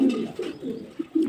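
A brown domestic pigeon coos at close range, giving a few soft, low, throaty coos separated by short pauses.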